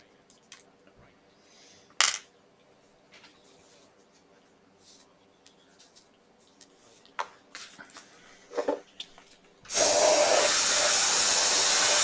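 Paint airbrushed onto a model: a few faint taps and clicks, then a steady, loud hissing spray that starts abruptly and continues without a break to the end.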